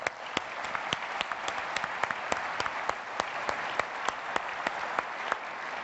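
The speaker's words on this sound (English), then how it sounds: "I will ask for a big round of applause for our friends at Bluestacks Systems." A conference audience applauds the Bluestacks Systems team after an Android-on-Windows demo at Citrix Synergy 2011, a steady wash of clapping with a few sharp, evenly spaced claps standing out close by, moderately quiet.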